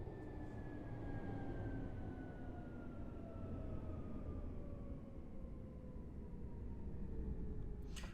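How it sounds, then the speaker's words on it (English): A train in the mobile game Train Drive ATS 2 pulls into a station with a steady low rumble and a long descending tonal whine from its slowing motors, quiet and continuous throughout. "this train's also pulling into the station"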